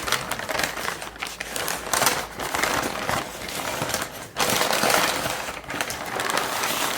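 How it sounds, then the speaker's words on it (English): A smoked wagyu brisket, cooked on a custom offset smoker, is unwrapped up close, giving a steady crinkly rustle of wrapping with a few louder crackling handfuls. "Okay, so let's give it an unwrap."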